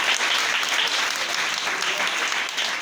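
A church congregation breaks into loud, continuous applause, many hands clapping close and steady throughout, with no talking over it.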